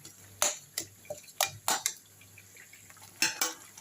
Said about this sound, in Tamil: இந்த சுண்டலுக்கு தேவையான உப்பு இதிலே போட்டுப்போம் நல்லா கலக்கட்டும்